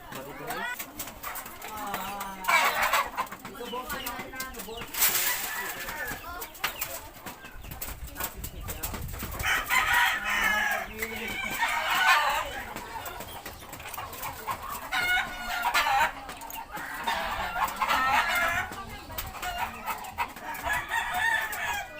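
Chickens and chicks clucking and calling, with a rooster-like crow among them, steady and close, while people talk over much of the clip.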